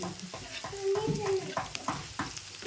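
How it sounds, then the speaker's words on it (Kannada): Garlic fries in a pan toward golden while a spatula scrapes and clatters in a quick irregular rhythm over a soft sizzle, with a brief ringing metallic tone partway through. "ಈಗ ನೋಡ್ರಿ ಬೆಳ್ಳುಳ್ಳಿ ಒಂದು ಸ್ವಲ್ಪ ಫ್ರೈ ಈಗ ನೋಡ್ರಿ ಒಂದು ಸ್ವಲ್ಪ ಗೋಲ್ಡನ್ ಕಲರ್ ಬರ್ಬೇಕು ಬೆಳ್ಳುಳ್ಳಿ ನೋಡ್ರಿ"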